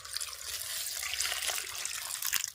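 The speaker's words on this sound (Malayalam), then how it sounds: "ഇതിന്റെ അകത്ത് നമ്മൾ കുറച്ച് വെള്ളം ഒഴിച്ചിനി കഴുകിയെടുക്കണം." Water is poured over chopped taro stems to wash them in a Kerala village kitchen, making a soft, continuous trickle and splash with occasional sharper drips and no talking.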